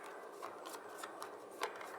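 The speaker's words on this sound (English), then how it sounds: "So I'm going to shuffle to see which side." Soft, rapid riffling of playing cards being shuffled close by, a quiet papery flutter with a few crisp snaps.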